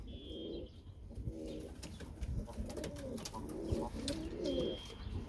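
Miro pigeons cooing in a loft, soft repeated throaty coos close by with faint chirps and a brief wing flutter, no talking.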